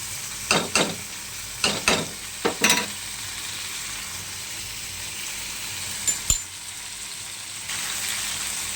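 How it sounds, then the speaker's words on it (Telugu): Telangana-style chicken frying in a pan hisses steadily while a spoon scrapes and stirs it in several quick strokes, with a pause of plain sizzling before one last sharp scrape. "కొంచెం మంచిగా కలుపుకోవాలి"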